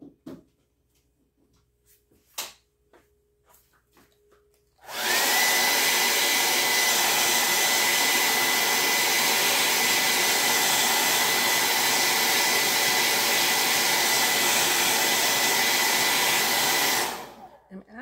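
A hair dryer blows on a painted wooden craft piece, a loud steady whoosh that starts abruptly after a few quiet handling taps and runs unbroken for about twelve seconds before cutting off.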